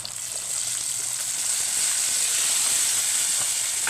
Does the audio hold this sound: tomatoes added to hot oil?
yes